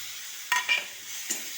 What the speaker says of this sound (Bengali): এই যে রান্না হচ্ছে পেঁয়াজ রসুন আর আদা একসাথে বাটা